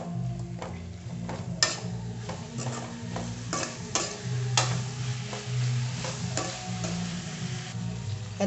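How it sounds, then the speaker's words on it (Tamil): Eggplant pieces sautéing in hot oil in a pan for a jackfruit-seed curry, with steady sizzling and repeated scraping stirs of a utensil against the pan, close and moderately loud, with no talking. "நம்ம கத்திரிக்காயை சேர்த்து கொஞ்ச நேரம் எண்ணெயிலே வதக்கி விடலாம்."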